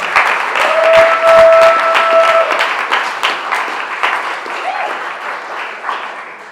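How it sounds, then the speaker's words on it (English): An audience in a room at Sports Basement applauds during a Berkeley District 4 candidate event, a loud, close round of clapping lasting several seconds with a faint tone and brief voices beneath. "Let's give her a round of applause."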